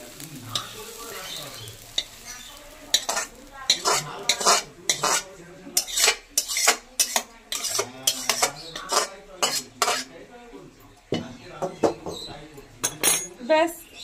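Fried bottle gourd peel lifted out of a frying pan, with metal utensils clinking and scraping against the pan in close, irregular bursts and faint sizzling underneath.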